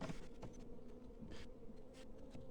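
Honey bees hum steadily at a hive after the colony quietly replaced its queen, a continuous soft drone of many wings with small swells in intensity and no voices.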